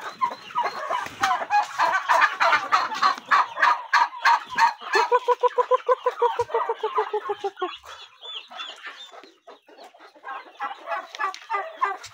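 Chickens cluck and chatter loudly in a busy backyard flock, with a run of rapid rhythmic calls in the middle, no clear gobbling.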